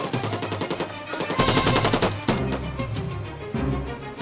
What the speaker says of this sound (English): With automatic gunfire raining down around them